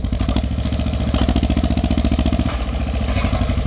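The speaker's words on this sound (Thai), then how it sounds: "รถไถมาช่วยดันดินครับ" A small tractor runs steadily while pushing soil to fill ground for a house. Its engine keeps up a loud, close, even throbbing with a slight rise in effort partway through, and no talk over it.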